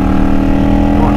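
A motorcycle fitted with eBay Emgo-style cocktail shaker exhaust pipes idles close by, a loud, steady, even throb with a deep low rumble.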